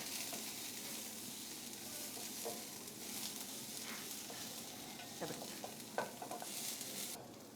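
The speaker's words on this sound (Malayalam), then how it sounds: "അതും കൂടെ ചേർത്ത് നന്നായിട്ട് ഇളക്കി കൊടുക്കുന്നുണ്ട്" Sliced green chillies being stirred into frying onions in a pan for a spicy fish curry. A low, steady sizzle plays throughout, with faint scraping strokes that grow a little more frequent toward the end.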